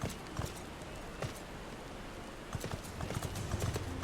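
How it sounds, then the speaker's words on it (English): Steady clip-clop of horse hooves at a walking pace in Final Fantasy XIV, over a dense, continuous background of game ambience and noise. "I got my Gyro horse,"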